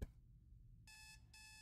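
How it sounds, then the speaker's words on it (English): Alarm clock going off inside a motel in a horror video game: two loud, steady bursts of high electronic beeping after a brief quiet pause, with no talking. "set off the alarm"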